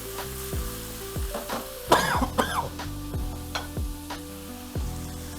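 Tomatoes hit a hot pan of Peruvian lomo saltado and sizzle steadily while being stirred, with a cough-like burst near the middle and faint tonal sweeps beneath.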